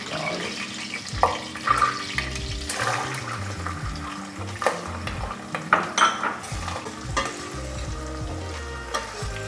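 Chopped onion dropped into hot oil for a chicken curry sizzles and crackles up close, with repeated spatula scrapes and stirring knocks over the frying, and a voice talking faintly in the background.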